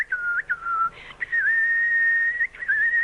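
A voice mimics a nightingale with a sustained, wavering whistle that sits mostly at one pitch, with brief warbles and breaks, close and clear.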